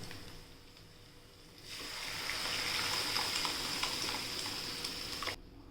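A quiet kitchen gives way to a sudden loud sizzle as spinach dal hits hot tempering oil, hissing steadily for a few seconds before cutting off.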